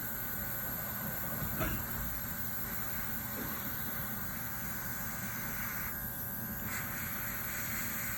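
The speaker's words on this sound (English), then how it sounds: "I'm going to start out by just airbrushing the whole flower." An airbrush sprays paint over a whole flower in a steady, unbroken hiss lasting about eight seconds, close and even, with faint mechanical hum underneath and no talking.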